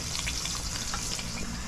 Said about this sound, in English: So while this batch frying here